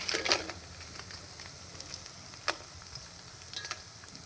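Dry red chilies fry in a pan for spicy lentil chutney powder, crackling and sizzling quietly with scattered pops and a few sharper spits over a soft steady hiss, and no one speaks.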